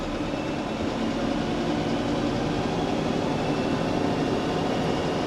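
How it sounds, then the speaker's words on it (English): A tractor's power take-off running at the 540 setting to drive silage-making equipment gives a steady, unbroken mechanical drone with a low hum throughout, constant in level and free of talk. "Start the PTO."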